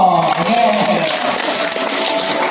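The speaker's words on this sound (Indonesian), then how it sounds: "Tepuk tangan dulu dong." Seminar participants at a village-heads training session in Aceh clap together, a loud, continuous burst of applause with voices mixed in.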